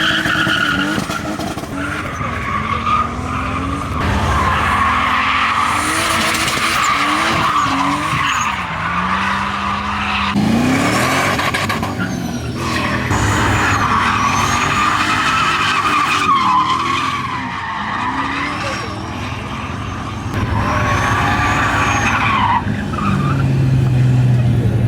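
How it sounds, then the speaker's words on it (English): Toyota 86 fitted with a WiseFab kit drifting at a drift event in Rosarito, Mexico: loud, sustained screeching tires over a roaring, shifting engine note, with squeals rising and falling as the car slides continuously. "It's not every day you get a drift inside an 86."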